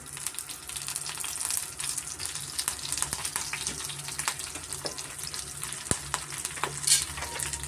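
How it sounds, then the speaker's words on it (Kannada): Cinnamon, cloves, fennel seeds and black pepper sizzle in hot oil for a hotel-style green mutton sambar, a steady, close crackling fry with light stirring clicks throughout. "ಎಣ್ಣೆ ಕಾದಿದೆ ಚಕ್ಕೆ ಲವಂಗ ಸೋಂಪು ಮತ್ತು ಕಾಳುಮೆಣಸು ಸೇರಿಸ್ತಾ ಇದ್ದೀನಿ"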